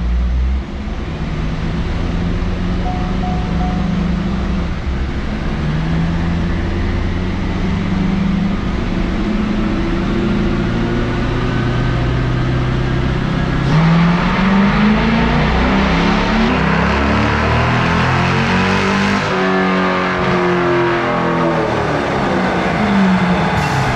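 A low-horsepower C5 Corvette running slightly lean in a second-gear dyno pull, its engine droning loudly and steadily as the revs climb and the pitch rises, then falls back near the end, with no voices.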